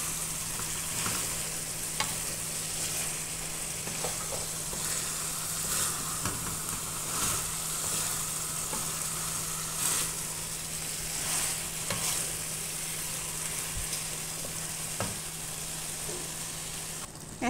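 Food fries in olive oil in a pan with a steady, close crackling sizzle, punctuated by faint clicks and stirring, with no talking.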